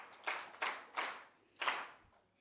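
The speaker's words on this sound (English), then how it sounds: "We can clap hands for them one more time" A small audience claps for honorees at an international city and county managers' gathering, with four distinct bursts of hand clapping, moderately close, and no talk.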